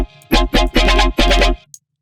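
FM synth tone from a Serum patch run through a reTune pitch-correction preset, heard as four loud, bright, sustained bursts with heavy bass, ending abruptly in near silence.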